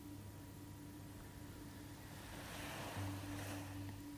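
Ocean waves give a continuous soft surf wash, with a gentle swell of rushing water building toward the end.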